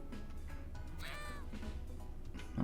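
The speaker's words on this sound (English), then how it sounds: "Cat." A cat meows once in the video game YIIK, a short rising-and-falling cry set over a steady low background drone.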